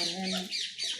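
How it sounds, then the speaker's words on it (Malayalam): Ducks and ducklings in a pen give a short burst of close, harsh quacking and peeping, with higher chirps overlapping near the end. "താറാവാണ്, വലിയ താറാവും ചെറിയ താറാവും ഉണ്ട്"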